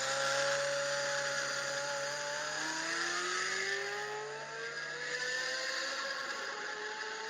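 A Ferrari F355 V8 engine howls with smooth, rising and falling pitch sweeps as it revs and passes, loud and sustained with no talking.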